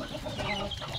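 Several chickens cluck together in a farmyard, a busy overlapping chatter of clucks, moderately loud and steady without speech.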